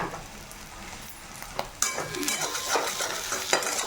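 Chilli chop filling being stirred with coriander and chilli powders, close spoon scrapes and clinks against the pot over a low sizzle, with irregular strokes growing busier after the first couple of seconds.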